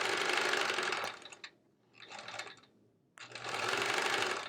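A sewing machine stitches a quilt in close, loud whirring bursts, running about a second, pausing, running a shorter spell, then starting again for a longer run.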